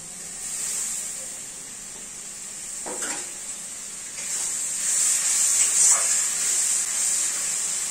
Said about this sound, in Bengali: তো এবার মশলাটাকে ভালো করে কষিয়ে নিচ্ছি। দেখো আর একটু জল দিয়ে দিই।